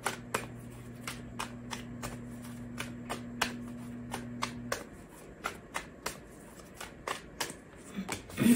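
Rapid riffle shuffling of tarot cards, crisp repeated snaps at a steady pace, close and fairly loud, with a low steady hum under the first half.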